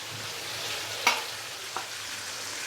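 Chicken pieces frying in a pan for Arabian-style mandi, a steady close sizzle with one sharp clatter of a utensil and a softer tap a moment later, no talking.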